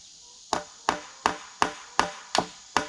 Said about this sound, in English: And I'm only going in about maybe an inch or 2 with these nails.